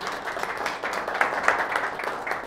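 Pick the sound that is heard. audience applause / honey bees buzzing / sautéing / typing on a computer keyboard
audience applause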